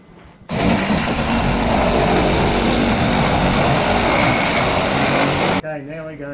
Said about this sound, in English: We use nibblers. You mightn't have any of those, so you can use a grinder